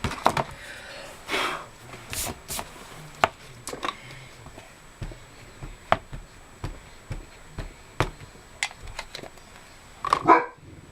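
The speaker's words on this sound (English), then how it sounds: "sorry about the dog barking again" A dog barks several times indoors during a gold embossing-powder Christmas card craft session, with sharp separate woofs spread irregularly among quieter tapping and handling noises.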